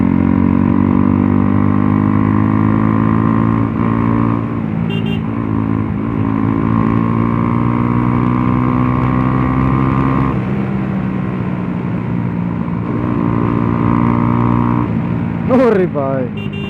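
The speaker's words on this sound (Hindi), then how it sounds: "अरे भाई पर्सनली मज़ा आ रहे है इतने दिनों के बाद एग्जॉस्ट खोल के चलाने में" A Bajaj Pulsar NS125 motorcycle ridden on the road with its exhaust removed gives a loud, raw engine drone that rises and falls with throttle, with wind noise throughout.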